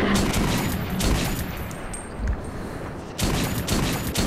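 Rapid bursts of gunfire in the first-person shooter Metro 2033, loud dense volleys at the start and again after a short lull, heavy crackling shots under game ambience with no speech.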